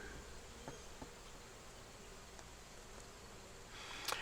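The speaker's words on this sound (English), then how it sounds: "let those poor forager bees get back" Honey bee foragers buzz faintly around a Slovenian-style hive during an oxalic acid vapor treatment, a soft steady drone with a few brief sharper passes close by.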